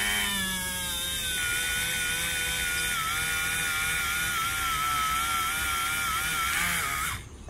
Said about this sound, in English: They fit really nice in the Dremel. Turn it on, get some steel wool.